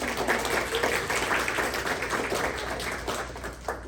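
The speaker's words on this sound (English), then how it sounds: "I'm gonna give Neil a round of applause for this." A dense round of applause from a crowd, steady and continuous throughout, fairly close, with many hands clapping at once.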